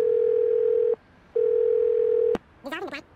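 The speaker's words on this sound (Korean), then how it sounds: "할아버지 전화 좀 받으세요." Telephone in the Do Not Feed the Monkeys video game ringing with two long steady electronic tones separated by a short pause, followed by a brief burst of voice-like sound.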